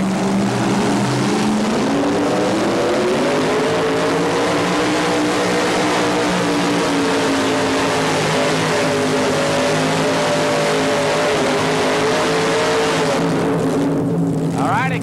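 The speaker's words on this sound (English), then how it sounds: "The 582 Keith Black Chrysler Hemi engine." A Keith Black Chrysler Hemi 582 engine on a little red Dodge making a tractor pull run in 1987, a loud, sustained roar with its pitch rising and falling under load before it cuts off at the end.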